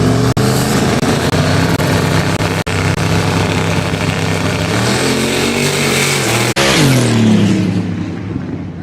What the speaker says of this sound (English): I feel like his car is a heck of a lot quieter than it used to be